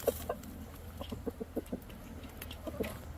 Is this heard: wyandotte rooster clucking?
yes